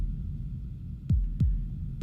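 Deep modular synthesizer kick drum hits land three times in the final second, each a falling thump over a low hum from the mix.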